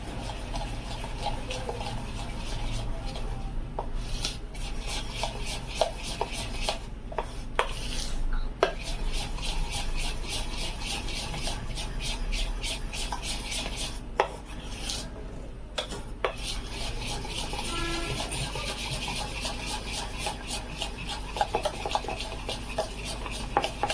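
A spoon scrapes and rubs around a bowl while Parle-G biscuit cake batter is stirred with milk, a steady rasping rhythm with intermittent sharper clinks against the bowl, close and alone.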